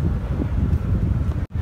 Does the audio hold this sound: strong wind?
yes